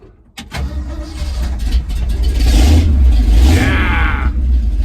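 A project car with a Frankenstein theme and a carburettor under repair cranks over at about half a second, then catches and runs with a steady, loud idle that builds slightly toward the end.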